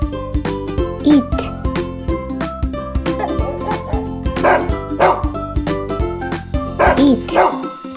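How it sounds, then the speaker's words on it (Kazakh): A dog barks in short repeated bursts over a busy musical backing with jingling, part of a children's animal-sounds sequence. "Ит."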